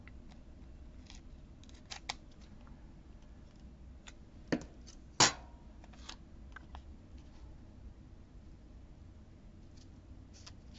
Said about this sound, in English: Let's just hope I cut it straight.